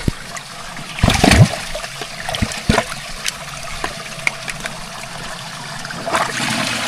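Water flows from an automatic sprinkler hose, a continuous trickling and splashing stream close by, with louder gushing bursts early on and no talking.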